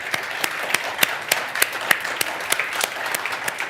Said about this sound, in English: So big applause to all of you who have done that.